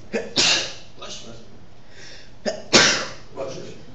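Two sharp sneezes in a university math lecture room, each a loud burst with a short intake before it, spaced about two seconds apart and heard fairly close.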